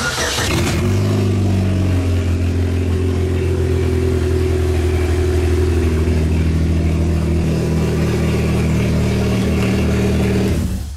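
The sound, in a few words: car engine starting and revving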